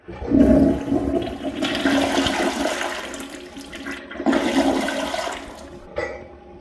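A second-generation Gerber Avalanche toilet flushes with a loud, close rush of water that surges, swirls, surges again, and then drains off, with no talk.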